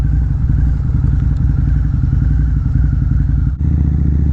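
A 2009 Harley-Davidson V-Rod motorcycle engine idling loud and close, a rapid, even, throbbing exhaust pulse with a brief dip near the end before the rumble continues.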